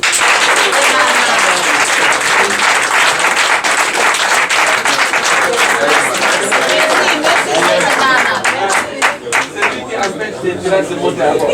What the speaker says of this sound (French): Veuillez applaudir Modou Seck.